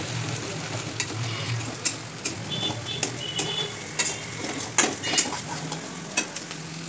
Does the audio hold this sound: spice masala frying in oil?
yes